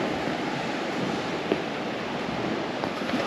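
Sea waves washing against the rocky coast below the Lovrijenac fortress, heard as a steady, unbroken roar of surf mixed with wind buffeting the microphone, with no voices.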